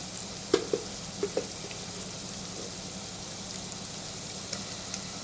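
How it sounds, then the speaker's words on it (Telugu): Ginger garlic paste fries in a pan with a quiet, steady background sizzle, broken by a few soft clinks and scrapes of stirring in the first half and a couple more near the end; no voices. "ఇప్పుడు కొంచెం అల్లం వెల్లుల్లి పేస్ట్ వేసుకుందాం."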